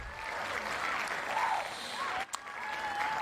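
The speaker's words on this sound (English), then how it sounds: "Let's give him a round of applause." Audience applause for Dr. Glidden, a steady wash of crowd clapping with faint tonal sounds mixed in and a brief dip partway through.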